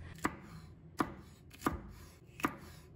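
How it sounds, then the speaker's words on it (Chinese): Celery is cut with a knife on a wooden chopping board: four sharp, evenly spaced chops land about every three quarters of a second, close and clear against a quiet kitchen. "放在案板上，把它切去老的部分"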